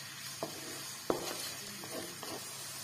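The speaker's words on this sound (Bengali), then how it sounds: "পেঁয়াজ আর রসুনটা একটু হালকা হালকা করে ভাজা হয়ে গেছে" Chopped onion and garlic frying in a pan for chicken fried rice, a soft sizzle broken by several sharp spatula scrapes and knocks as it is stirred.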